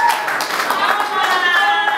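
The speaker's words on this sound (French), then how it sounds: "applaudissez pour elle, s'il vous plaît, mesdames et messieurs" An audience at an awards ceremony applauds a winner of best director, a dense, loud, continuous patter of clapping hands filling the room.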